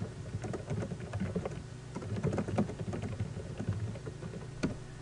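Keystrokes on a computer keyboard, a steady, fairly quiet patter of irregular clicks lasting several seconds, with no talking.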